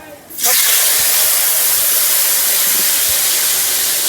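Dried red chillies drop into hot oil for a Bengali mango pickle and burst into a loud, steady sizzle that starts abruptly and hisses continuously, close up, for the rest of the clip.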